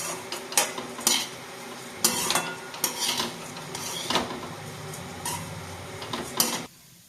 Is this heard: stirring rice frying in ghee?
yes